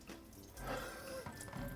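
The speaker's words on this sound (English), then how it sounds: "Now we're going to take and run into cold water to stop the cooking process." A kitchen tap runs cold water over cooked food for a summer salad, a steady close hiss and splash of flowing water with no talk.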